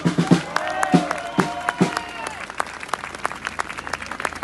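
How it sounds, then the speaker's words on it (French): A crowd applauds loudly at a French political rally of Les Patriotes, dense clapping with cheers and a few voices calling out near the start, then settling into steady applause. "qu'on peut applaudir très fort."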